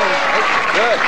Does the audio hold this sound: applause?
yes